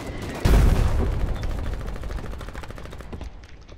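A coastal gun fires in the war video game Foxhole: one heavy blast booms out, then rolls into a long, rumbling decay that fades over a few seconds.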